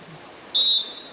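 A single short, shrill referee's whistle blast at an amateur regional football final, heard clearly over faint crowd background.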